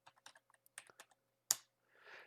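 Numbers are typed on a computer keyboard in quick, light, irregular key taps, close and clear, ending in one sharper key press and a short soft rustle, with no talking.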